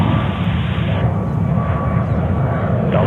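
Jet airliner taking off at JFK Airport, a loud, steady engine roar that fills the whole clip without letting up, close by and with no voices over it.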